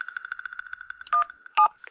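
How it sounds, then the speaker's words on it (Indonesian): Rapid, evenly spaced telephone keypad beeps dial out to a bank, a string of short tones followed by two longer, louder dual tones, clear and close with no voices. "Aku telepon bank sekarang."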